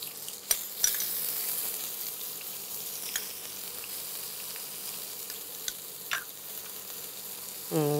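Chopped onions shallow fry in a pan with a quiet, even sizzle and occasional clinks and scrapes of stirring, with no voices.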